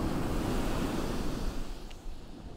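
Ocean waves wash onto an empty beach on a fine day, a steady broadband rush of surf close by with some wind noise, easing slightly toward the end.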